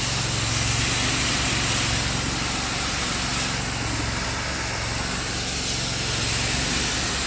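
A pressure washer fitted with an 18-inch surface cleaner rinses leftover muck from a concrete driveway, giving a steady, loud broadband spray hiss over a low engine drone that runs unbroken throughout.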